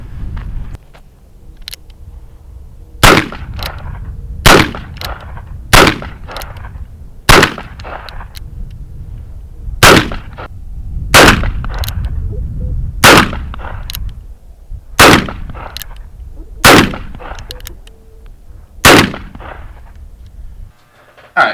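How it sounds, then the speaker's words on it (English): An Uberti 1847 Walker black powder revolver fires about ten sharp, loud gunshots at uneven intervals of one to two seconds, each blast ringing off briefly, with no talking between them. "and then we'll take a few shots with it."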